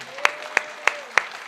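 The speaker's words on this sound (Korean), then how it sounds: "박수 한번 쳐" Congregation at a Sunday morning church service claps in unison, five sharp, evenly spaced claps roughly a third of a second apart, with a faint sustained tone beneath.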